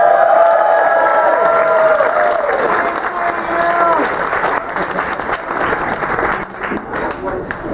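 A live audience at Furry Night Live, a stage show at the Furry Fiesta 2013 convention, breaks into loud, sustained applause mixed with cheers. The clapping slowly thins out, and a voice talks over the crowd.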